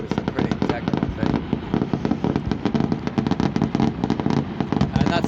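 A fireworks display in Vancouver crackles with rapid, dense bursts and pops in a continuous irregular barrage, loud and fairly close, with no talk.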